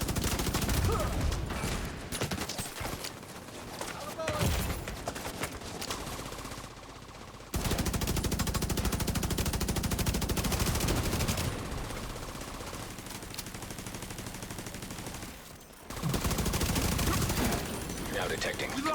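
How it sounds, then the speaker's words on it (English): Hostile incinerator turret firing in a video game, long loud bursts of rapid automatic fire broken by brief gaps, with occasional talk mixed in. "Hostile incinerator turret detected."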